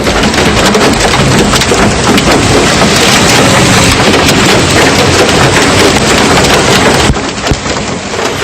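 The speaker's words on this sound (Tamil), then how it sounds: "இதையடுத்து ஆலங்கட்டி மழை பெய்ததால் சாலைகளில் தண்ணீர் பெருக்கெடுத்து ஓடியது" A hailstorm with heavy rain in Hyderabad pours down in a loud, dense, unbroken roar of pelting drops, then eases slightly near the end.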